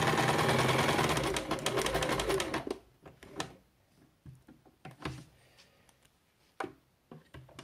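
A sewing machine runs in a steady continuous whir while stitching strips of patchwork fabric, then stops, leaving scattered short clicks and handling sounds of the cloth being moved.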